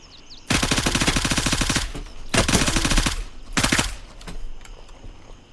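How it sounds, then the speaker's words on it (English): Gunfire in the video game Gray Zone Warfare: three long bursts of rapid automatic fire, loud and close, separated by short pauses, with faint shots trailing off afterward. "Is that you shooting?"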